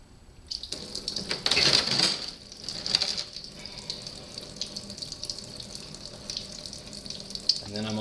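Coolant drains from a Suzuki V-Strom 1000 engine after the top bolt on the water pump is removed, an uneven trickle and splash of liquid with louder gushes early on, close by and fairly quiet.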